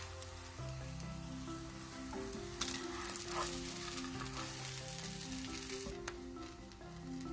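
Zucchini and paneer toast sizzling in butter in a pan, a steady close frying hiss under soft background music, with a few brief clinks midway.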